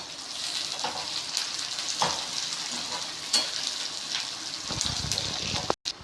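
Green chilies fry in a pan for rava upma, giving a steady close sizzle with stirring scrapes and a few sharper crackles, without speech.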